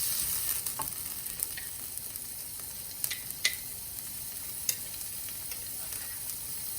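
Dragon chicken being stirred in a hot pan, giving a steady, even sizzle with scattered light clicks and scrapes of a utensil against the pan, moderately quiet and close, with no talking.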